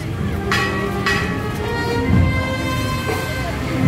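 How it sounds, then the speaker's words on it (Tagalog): Church bell struck during a barangay San Antonio fiesta procession, a few metallic strikes with lingering ringing tones over a busy outdoor crowd murmur and traffic. "Ang kampana ng simbahan ay hudyat ng patapos na yung prosesyon"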